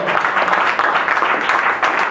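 Loud, dense applause from a crowd, with scattered cheering voices mixed in, continuous for a couple of seconds.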